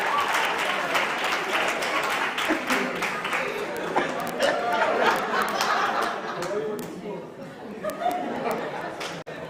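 Audience clapping at an innovation and entrepreneurship conference, a sustained spread of hands mixed with chatter and light laughter, with a few sharper individual claps standing out.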